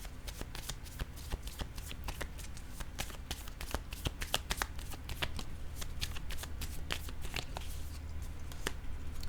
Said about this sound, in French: Je vais déposer une carte directement sur la brunette.